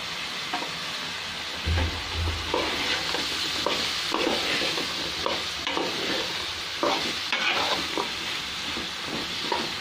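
New potatoes cut in quarters and cauliflower stalks sautéing in a pan: a steady close sizzle with repeated scraping strokes of a spatula, no talking.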